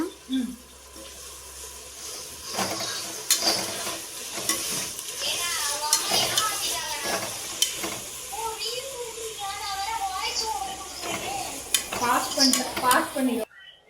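Mint and coriander are stirred into hot ghee in a pot for biryani, with a continuous close sizzle and frying hiss, scraping spoon strokes and metal clinks while a voice talks over it.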